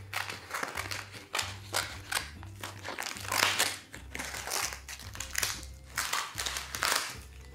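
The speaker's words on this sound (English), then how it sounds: "Maybe I can just use scissors for this." Repeated crisp snipping and crunching of scissors cutting through dry seaweed, in quick irregular bursts, close up, with a low background hum.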